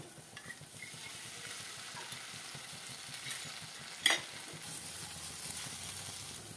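A spice paste with ground coriander and a little water sizzles gently while being stirred in a pan, with a soft steady fry, light scraping, and one brief utensil clink partway through.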